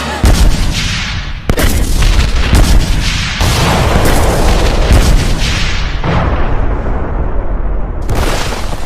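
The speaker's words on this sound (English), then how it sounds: "Bombs, look out!" Bomb explosions in an action anime battle, a sustained barrage of loud booming blasts with sharp sudden onsets at several points, dense rumbling filling the whole stretch with no clear talk.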